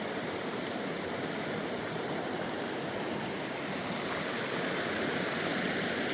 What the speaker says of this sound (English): There's a creek crossing for the road.